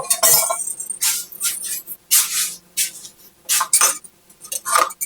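A whisk clatters rapidly against a bowl while gravy mix is stirred, bursts of bright metallic clinks coming in uneven spurts with short pauses between, close and fairly loud.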